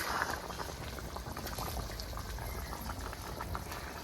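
Fish curry broth made with bata fish bubbles at a steady rolling boil in a pot, a continuous soft gurgling and popping heard close up with no voices.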